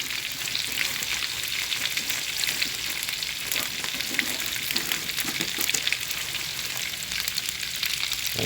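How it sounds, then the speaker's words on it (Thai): Thai southern-style curry broth bubbling and sizzling in a pan, a steady dense crackle and hiss that runs unbroken from start to finish, close and fairly loud with no voices over it. "ตอนนี้น้ำแกงเดือดได้ทีแล้วนะครับ"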